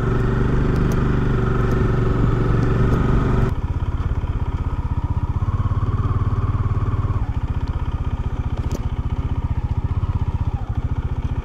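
A motorcycle rides along a forest road on a trip through Kutch, Gujarat, its engine droning loud and close throughout with a steady rumble, shifting in tone partway as the pace changes.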